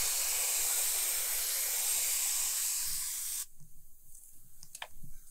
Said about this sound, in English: you can spray some of the dirt off